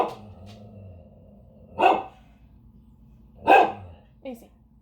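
A house dog barks at the mailman, giving two loud separate woofs about two seconds apart and then a short softer yip, fairly close, with a faint background hum and brief low voice sounds.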